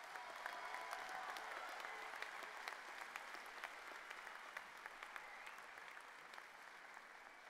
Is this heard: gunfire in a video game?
no